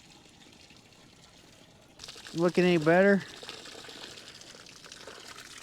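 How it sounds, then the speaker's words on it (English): Water trickles steadily out of a small screw hole in a feed wagon, a faint, continuous dribbling hiss, briefly covered by a short spoken question partway through. "There's like a little screw hole the water's leaking out of."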